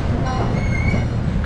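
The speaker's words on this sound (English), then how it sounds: "we're going on a train ride." Inside a moving zoo train at Houston's Hermann Park: a steady low rumble of wheels on rails with a faint high squeal, continuous and fairly loud, no talking.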